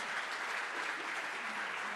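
A church congregation applauds at a service, a steady wash of dense clapping held at an even level for the full two seconds, with no voices standing out.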